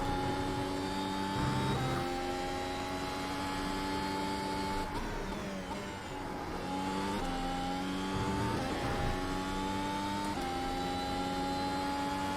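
A Mercedes W12 Formula 1 car engine in a racing game on the Road America circuit, a steady high-pitched whine that rises and drops with gear changes several times, loud and continuous.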